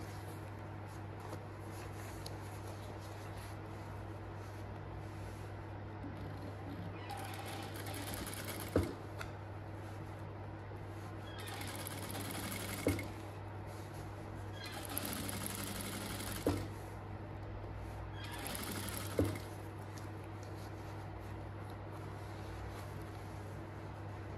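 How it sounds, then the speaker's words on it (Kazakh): A sewing machine stitches a fabric bag in several bursts of steady whirring, with brief clicks between runs over a constant low hum; no one speaks. "осы күйде тігіп шығамыз"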